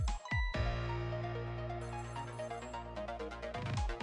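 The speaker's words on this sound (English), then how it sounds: "the phone rings" A telephone rings in the video game Ghost Trick: Phantom Detective, a steady electronic ringtone melody with sustained tones that runs for about four seconds, clear and uninterrupted with no talking.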